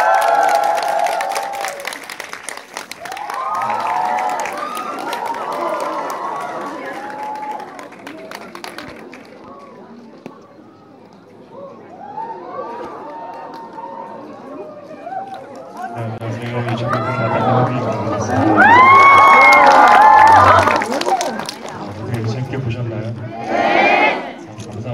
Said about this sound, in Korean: 제가 소개하면 크게 환호해 주시면 더 힘이 될 것 같습니다